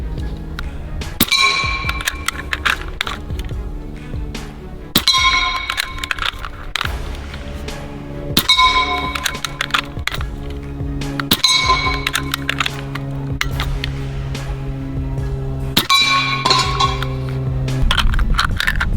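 Rifle shots from a Bintac M50 ring off steel star targets, each report followed by a bright metallic ping, spaced several seconds apart in a steady sequence over continuous background noise.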